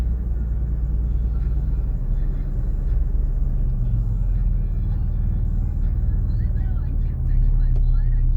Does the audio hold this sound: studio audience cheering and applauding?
no